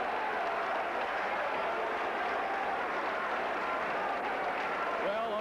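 A boxing crowd in a drill hall roars and applauses after the bell ends a light heavyweight round, a continuous, steady wall of noise heard at a distance beneath a commentator's voice.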